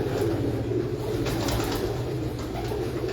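Ferozpuri pigeons coo steadily in a low, throaty rolling rhythm, several birds overlapping close by against a constant background hum, with no talking.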